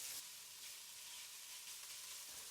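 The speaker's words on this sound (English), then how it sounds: "You can actually hear the difference now as it's frying." Bacon and mirepoix frying together in a pan, a steady, even sizzle with a soft crackle throughout, close and continuous with no talking.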